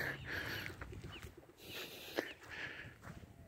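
Ducks on East Lake Tohopekaliga call with faint, scattered quacks and chirps at a distance, over soft outdoor background noise.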